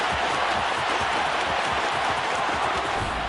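Stadium crowd roaring and cheering after a touchdown in the Madden football video game, a dense, steady wash of noise at full loudness throughout with no talk over it.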